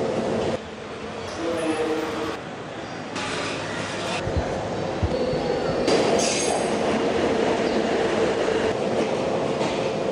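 Trains at Colombo Fort railway station rumble and clatter steadily, with squealing wheels and occasional metallic clanks over a dense background din.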